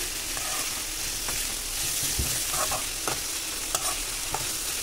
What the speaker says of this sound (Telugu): ఇట్లాగా కలిపేసుకొని ఫ్రై అవ్వనిద్దాము